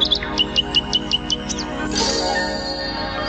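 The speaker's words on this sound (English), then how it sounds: "there the little nightingale sat, singing his heart out." A nightingale sings as a story-tape sound effect: a quick series of bright, repeated chirps and trills, clear and close, followed by a longer warbling phrase over a soft background.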